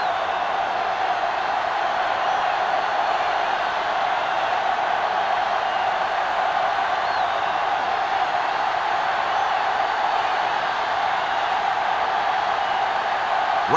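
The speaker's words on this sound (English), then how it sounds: "the crowd in full throat as we get this new season started with the kickoff" A football video game's stadium crowd roars steadily at a season-opening kickoff between Miami and Buffalo, a broad, unbroken wash of cheering noise heard from a distance.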